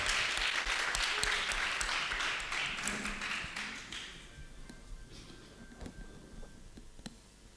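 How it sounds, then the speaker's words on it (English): An audience claps and applauds to welcome a speaker at a workplace readiness training day, with dense clapping that starts strong, then thins out and fades over several seconds, followed by scattered taps. "Let's give him a round of applause while he comes up."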